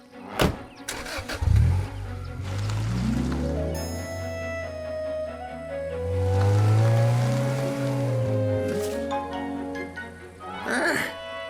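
A cartoon car engine revs up with rising and falling whines, holding a sustained drone as it drives off, with a few clatters at the start and a quick swish at the end; no talk over it.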